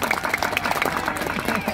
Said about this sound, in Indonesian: Tepuk tangan untuk Pak Dukuhnya.